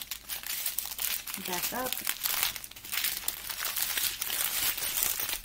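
Crinkly plastic packaging from a Diamond Art Club diamond painting kit rustles and crackles as it is folded by hand, with someone talking throughout. The crinkling runs close and continuous under her voice.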